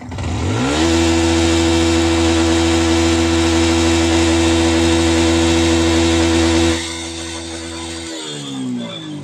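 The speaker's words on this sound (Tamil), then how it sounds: "திரும்பவும் நான் வந்து வண்டியை வந்து ரேஸ் பண்ணி பிடிக்கிறேன்" A Yamaha R15 V1 motorcycle with a misfire fault, error code 55, revs up loudly and holds a steady high drone of stacked engine harmonics for several seconds, then the revs drop back toward a quieter idle near the end.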